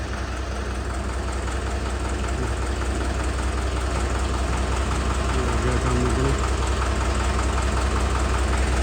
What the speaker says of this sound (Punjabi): ਦੇਖੋ ਇਹ ਡਰਾਈਵਰ ਪੁਰਾਣਾ ਰੇਸ ਦਿੰਦਾ ਇਹ ਟਰੈਕਟਰ ਨੂੰ